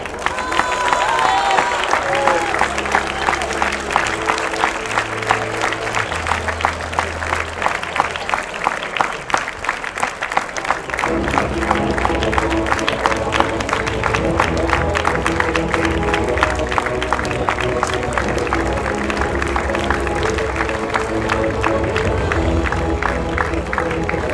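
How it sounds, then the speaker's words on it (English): Audience applause at a university faculty awards ceremony, sustained and fairly loud throughout, with music or a low hum under the first half and dense clapping filling the hall after the midpoint. "please give a big round of applause to Prasadini Bigwell."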